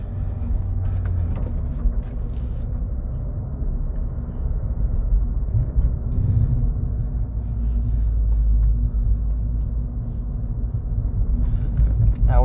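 A 2017 Ford Fiesta ST on summer tires drives along backroads, its engine and road noise forming a steady, close, low rumble that holds throughout with only slight swells, and no talking over it.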